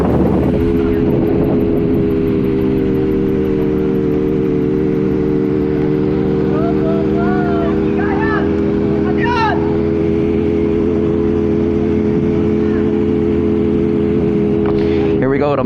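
Struggling, labouring motorcycle engine riding along behind a national women's elite criterium cycling race, a steady loud drone with strong low harmonics running throughout, with wind rush and brief whistling sounds from around the road.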